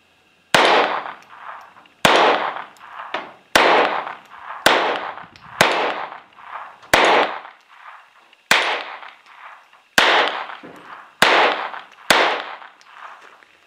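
GSG Firefly pistol firing Thunderbolt ammunition, ten sharp, loud shots spaced roughly a second or more apart, each with a short ringing decay before the next report.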